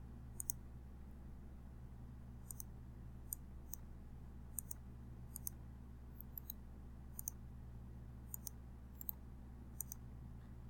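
Computer mouse clicks while rotating and placing a trammel toy part in CAD software, about a dozen sharp, faint, irregularly spaced clicks over a low steady hum.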